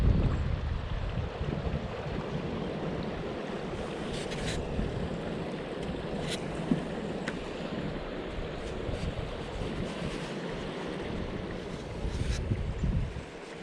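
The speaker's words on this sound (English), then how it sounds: "all you can hear is the sound of the water and the wind." Steady outdoor rush of moving river water with gusting wind buffeting the microphone along a riverside rail trail on a cold day, continuous and fairly loud throughout with no voices.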